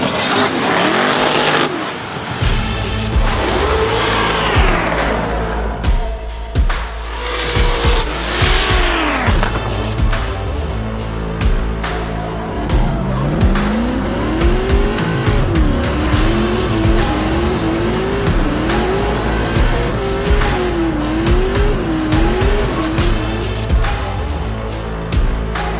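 Race cars roar loudly around a track, their engines rising and falling as they pass close by. Tyres squeal and the engine noise continues unbroken for nearly half a minute.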